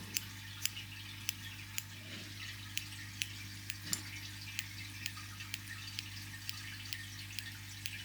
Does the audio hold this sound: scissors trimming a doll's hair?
yes